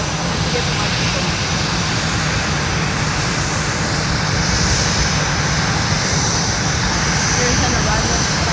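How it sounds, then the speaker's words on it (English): A Boeing 777 arriving at Fort Lauderdale's Southwest area gives a steady, loud broadband jet roar that holds evenly for the full stretch. "There is an arrival at Southwest. It is a Boeing 777."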